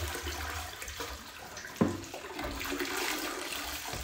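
Dirty water pouring from the quick-pour spout of a Hoover Deluxe Power Scrub carpet cleaner's recovery tank, a steady splashing gush with a brief louder slosh partway through, alone without talk.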